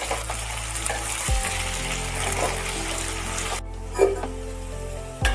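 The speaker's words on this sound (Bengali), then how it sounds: "সর্ষের তেলের মধ্যে আলু দিয়ে একটু নাড়াচাড়া করে" Cubed potatoes sizzle steadily in hot mustard oil while being stirred, a continuous close frying hiss with a few louder scrapes and clatters of the spoon toward the end.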